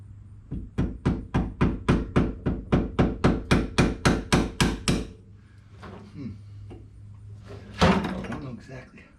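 A hammer drives a pin out of an ATV CV axle with about sixteen sharp, evenly spaced metallic blows, followed by quieter handling noises and one final strike.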